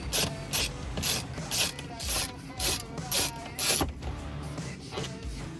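A 3 mm Allen head ratchet backs bolts out of an Ineos Grenadier, a run of quick repeated clicking bursts with short pauses between, close and fairly loud.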